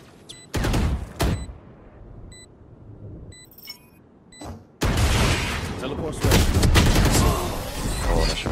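Gunfire in the tactical shooter Valorant on the Sunset map: a few sharp shots early on, then sustained loud automatic fire with beeps and game effects, and voices talking over it.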